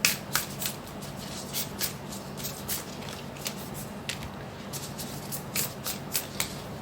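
Tarot cards are shuffled in repeated soft riffling bursts for several seconds, a steady papery rustle close by with no talking.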